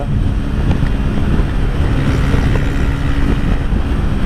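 125cc motorcycle with a faulty cylinder piston, ridden at speed, its engine a loud, constant buzzing drone mixed with rushing wind noise throughout.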